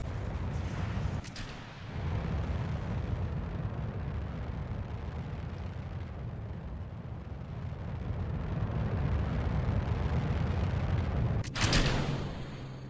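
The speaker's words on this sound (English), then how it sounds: "Off it goes. Into space. Rocket. Away it goes." A rocket launching into space in a video game gives a long, steady, loud roaring rumble with deep low-end thrust, broken by a couple of brief sharp bursts near the start and end.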